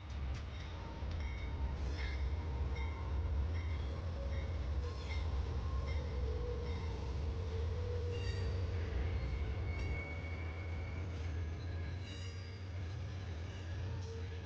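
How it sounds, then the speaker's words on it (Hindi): Amtrak's California Zephyr, train 6, rolls into the Salt Lake City platform with a steady deep rumble, a low mechanical drone and thin metallic squeals from the wheels, loud and continuous throughout. "प्लेटफॉर्म के छोर पर 2 हेडलाइट्स दिखती हैं और ट्रेन 6 एमट्रैक की कैलिफोर्निया ज़ेफायर आती है।"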